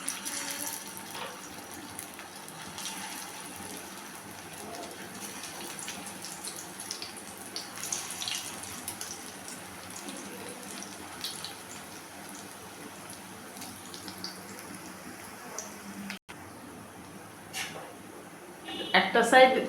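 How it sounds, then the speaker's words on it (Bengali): Fish kebabs fry in hot oil with a steady, fine sizzle and scattered crackles, moderately close, while a voice talks at times over it; the spitting swells near the end. "এখন আমি কাবাবগুলো ভাজতে শুরু করব। এই তেলের মধ্যে দিয়ে দিলাম"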